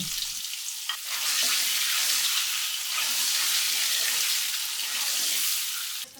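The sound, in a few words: eggs frying in oil with salt and turmeric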